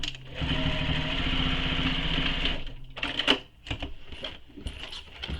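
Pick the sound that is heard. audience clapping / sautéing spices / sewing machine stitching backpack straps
sewing machine stitching backpack straps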